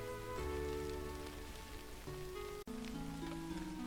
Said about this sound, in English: Ah, the sound of rain.